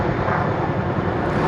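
A helicopter flying overhead at the Tower of London at Christmas, a loud, steady low rumbling drone that fills the whole stretch without a break or any talk.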